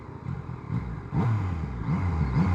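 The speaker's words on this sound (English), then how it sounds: "You can hear it when you rev the engine." A Yamaha MT-09 motorcycle engine idles and then revs repeatedly in B mode, the pitch rising and falling in short bursts, close by with no one speaking.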